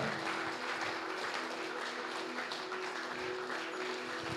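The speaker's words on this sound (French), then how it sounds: "Applaudis-le très fort." A church congregation claps loudly during worship, a dense, steady wash of applause filling the room with a faint sustained tone underneath.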